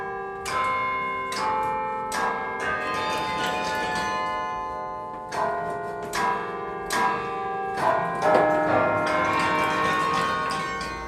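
The carillon bells in the UT Tower, fifty-six in all, ring out a slow melody of struck tones that overlap and sustain, loud and resonant with no one talking.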